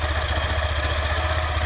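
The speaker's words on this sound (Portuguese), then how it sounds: "Mas tá aí a moto em funcionamento." A Yamaha Fazer 150 motorcycle with 115,000 km on it idles steadily, its engine giving an even low, pulsing rumble with a light mechanical clatter, close and alone.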